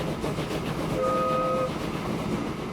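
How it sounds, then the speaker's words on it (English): A steam locomotive's whistle in the Transport Fever 2 railway game sounds for about a second as a steady tone over a constant rolling train rumble, with no talking. "That's a pretty good whistle."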